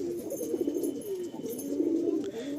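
Male pigeon offered at a bird sale cooing in a steady, close, repeated rolling coo that runs continuously with no talk.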